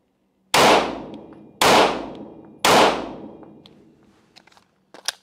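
Three loud, sharp gunshots fired at a steady pace, each with a ringing decay, followed by a few faint clicks.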